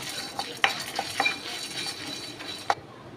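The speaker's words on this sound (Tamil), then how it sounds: "லைட்டாக ஃப்ரை பண்ணி விட்டுக்கலாம்" Black pepper, cumin, cashews and dried red chillies fry lightly in oil in a pan, a soft steady sizzle broken by several sharp clinks of a spoon against the metal as the spices are stirred.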